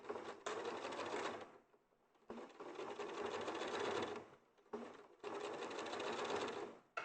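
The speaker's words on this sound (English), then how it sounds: "So I'm using the foot, the gap in the foot, next to the needle as my eye line for where I'm top stitching." Close, loud sewing machine top stitching fabric in three long continuous runs with brief pauses between them, the needle running steadily along the seam.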